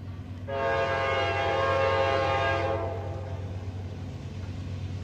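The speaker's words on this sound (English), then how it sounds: "Q138's coming. It's our last train of the day." A CSX Q138 freight train led by SD40-3 locomotives sounds a loud, sustained horn chord for about two and a half seconds over a steady low rumble of passing rail cars, with the rumble continuing after the horn stops.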